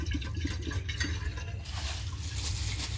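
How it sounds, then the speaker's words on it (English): Water poured into a 2013 Eago toilet bowl, a close sloshing and splashing stream with uneven gurgling pulses, filling steadily for a few seconds with no talk. "I'm going to add some water to the bowl"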